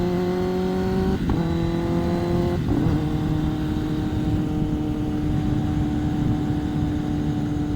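A Kawasaki Ninja ZX-10R sport motorcycle engine revs up in stepped bursts, its pitch jumping between gear shifts, then settles into a steady high drone, loud and close.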